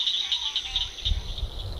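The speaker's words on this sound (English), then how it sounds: "If you hear behind me, there's a ton of frogs out here." A dense chorus of frogs calls steadily from a wetland where green tree frogs live, a continuous high trilling pulse with a low rumble of wind or movement partway through.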